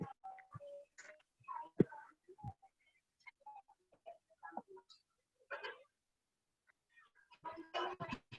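A chicken clucks in short, scattered bursts, fairly close and quiet, with brief pauses of near silence between calls and a louder flurry near the end.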